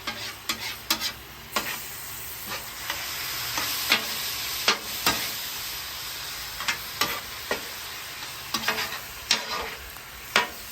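Garlic sauce sizzles and reduces on a hot griddle, a steady close frying hiss broken by repeated sharp scrapes of stirring strokes throughout, with no talking.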